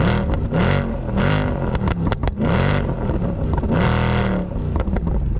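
A Mercedes-Benz C63 AMG Edition 507 V8 revs loudly up and down in repeated surges, engine note rising and falling close by with no talk.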